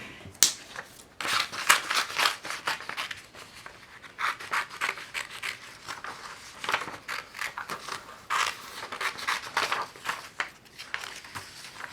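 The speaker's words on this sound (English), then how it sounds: "now I'm going to go ahead and cut out around this line that I've drawn." Scissors snip around a drawn line on paper to cut out a plush toy ear pattern, with repeated close, crisp cuts and rustling in an uneven rhythm throughout.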